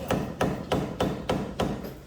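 Metal hammer strikes on a brake bolt of a Hyundai Santa Fe ring out in a steady rhythm, about seven blows, loud and close with no talking.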